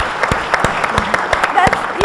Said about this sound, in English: It's the Arab men here up front who applaud it.